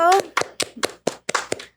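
A few scattered hand claps welcome a guest biologist on a Spanish-language anniversary podcast episode, short uneven bursts following a brief moment of speech.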